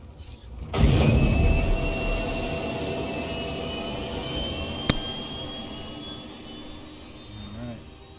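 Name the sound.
spacecraft engines during takeoff in Star Citizen video game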